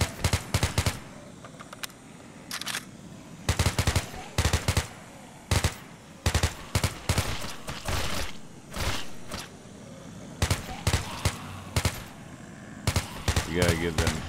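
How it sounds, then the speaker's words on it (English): Gunfire in the video game Crimson Earth 2, with sharp single shots and rapid bursts coming in clusters, someone talking between and over them. "Wait, did I hear somebody else shoot?"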